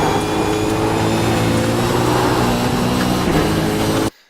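A race car engine in a racing game at Mosport, holding a loud steady drone with a brief dip at the shift to fifth gear before cutting off abruptly.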